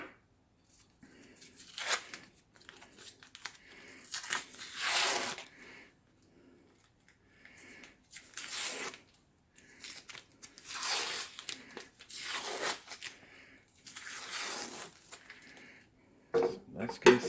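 Tape torn off a roll and pressed down to mount a tank cradle on an HPA airsoft compressor, heard as repeated close bursts of ripping and crinkling with quiet gaps between them.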